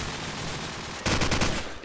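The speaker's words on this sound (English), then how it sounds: "Hyperion did rattle off some shots towards B" Burst of rapid gunfire in a Call of Duty 4 promod match on mp_strike, a loud rattling volley of close shots cutting in halfway through over a low ambient game background.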